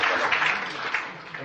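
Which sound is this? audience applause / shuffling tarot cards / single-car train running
audience applause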